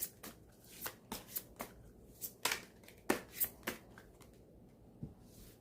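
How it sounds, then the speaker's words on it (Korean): Tarot cards are shuffled by hand to draw an extra card, giving soft riffling snaps and slaps in an irregular string of short bursts, close and quiet with no talk. "추가 카드 뽑아보도록 할게요"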